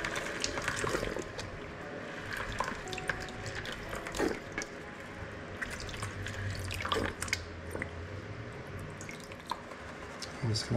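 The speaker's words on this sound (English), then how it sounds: "I'm just going to pour the excess water back into this Lynch mining bucket." Excess water splashes and trickles as it is poured from a gold pan into a Lynch mining bucket while prospecting, with scattered drips and clatter throughout.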